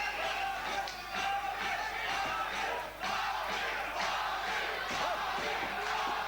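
A large crowd roars and cheers continuously at a kickboxing fight between Prince Amir Shafipour and Chris Allen, a dense, loud wall of voices with surging shouts throughout.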